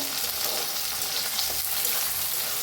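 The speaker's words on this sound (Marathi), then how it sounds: "कांदा मिरची चांगली भाजली, आता टमाटर टाकून घेऊया कापलेला, हलवून घेऊया।" Chopped onion, chilli and tomato fry in a pan while being stirred, making a close, dense, steady sizzle with no pauses and no talking.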